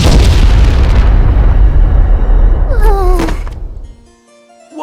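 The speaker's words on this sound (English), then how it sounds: "Explosion!" A loud magic explosion sound effect in an animated comedy booms and rumbles for several seconds, with rising squeals near the end before it fades into a short high ring.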